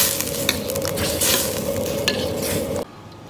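Starch slurry is stirred into steamed-meatball broth in a wok, producing a loud, steady sizzle and bubbling with scraping stir strokes that ends abruptly.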